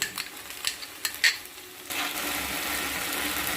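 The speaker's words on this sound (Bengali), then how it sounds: "তো দিয়ে দিচ্ছি টমেটোর পেস্ট।" Tomato paste hits a hot pan of oil with garlic and whole cumin, cooking for a Bengali yogurt chicken. A few spoon scrapes and taps come first, then a sudden, steady, close sizzle.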